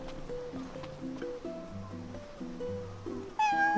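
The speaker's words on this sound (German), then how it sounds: "Ach, das ist eine Katze." A cat meows in Final Fantasy XV, a few short clear mews over a soft looping musical background, with a brighter chime rising at the end.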